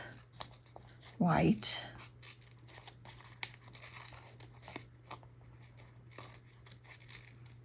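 A single brief, crisp cut or tear of excess washi tape during art-journal crafting stands out once against a quiet background of soft rustling and low speech.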